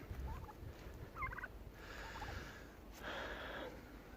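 Turkeys gobble in short bursts, a few separate calls, fairly faint over a low outdoor background with no talking.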